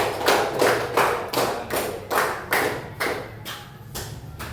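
Group applause in an Indonesian classroom for the first discussion group, a steady run of hand claps in repeated bursts over about four seconds, fairly close and loud.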